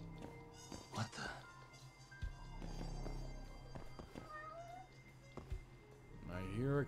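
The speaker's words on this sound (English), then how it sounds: "I hear a cat." A cat meows repeatedly in the video game Judgment, several short rising cries and a louder final wail, mixed with in-game footsteps and sounds while a person talks over it.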